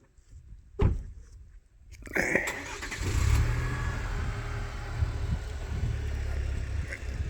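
A truck engine idles steadily and close by after a sharp door-like knock, its low rumble filling the scene under faint background voices.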